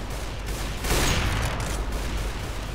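Gunfire in the video game Counter-Strike Global Offensive comes as a dense, continuous burst that swells in the middle, loud and close.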